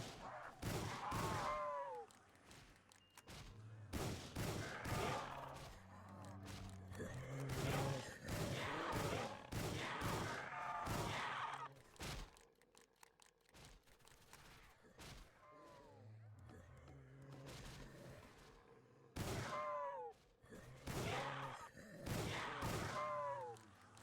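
Shots from the Better Days gun, a 12-round-magazine weapon in Roblox Project Lazarus, ring out as sharp, separate cracks in short clusters, interleaved with someone talking.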